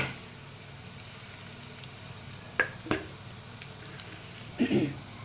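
Steady sizzle of onion frying in a hot pan, with a few sharp clinks of a utensil against the pan.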